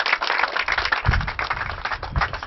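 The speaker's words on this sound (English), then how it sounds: "Let's give our judges a warm round of applause." An audience at a student architecture awards ceremony claps for the judges, a brief burst of lively, uneven applause with a few sharper nearby claps standing out over the crowd.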